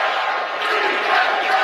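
A large ballpark crowd chants steadily through a broadcast feed, a dense, loud, continuous roar of massed voices with no pause.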